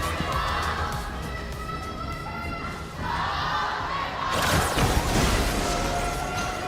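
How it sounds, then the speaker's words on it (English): A large crowd roars and cheers in a big arena at an esports grand final, a continuous loud wash of voices that swells toward the end with thumping beneath. "Here now, we can hear the rumble by the crowd. They're cheering now."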